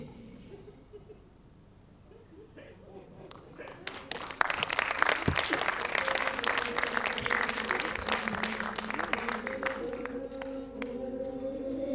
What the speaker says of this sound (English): The applause was deafening.